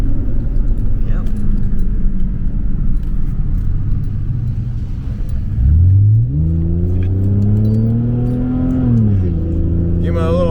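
A car engine idles roughly, then revs up loudly, holding a rising and falling whine before dropping back, close by and dominant, with faint jangling and talk in the background.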